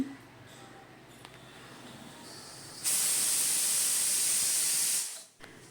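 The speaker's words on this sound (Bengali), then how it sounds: "গ্যাসের ঢাকনাটা বন্ধ করে চারটি সিটি দিয়ে নেব" A quiet background hum gives way to a loud, forceful hiss of a pressure cooker whistle releasing steam while cooking dal, lasting about two seconds and then cutting off abruptly.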